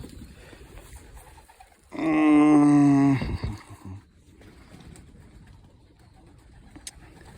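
Racing pigeons give a single loud, close coo lasting about a second, set against quiet outdoor background.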